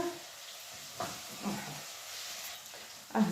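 Boiled water poured into a cooking pot holding oil, giving a steady hiss and steam with a few brief louder bursts, including a sharp rise at the end, with no talking.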